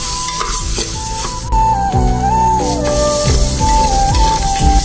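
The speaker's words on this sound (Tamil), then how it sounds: "லேசாக ரைஸ் வறுத்தாச்சு." Rice for a tomato biryani is lightly fried and stirred in a hot pan, a steady sizzle with repeated scraping strokes of a spoon across the metal, loud and close with no talking.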